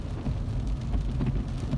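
Steady rain heard from inside or near a parked car, a dense broadband hiss with faint pattering, moderately quiet and continuous, no voices.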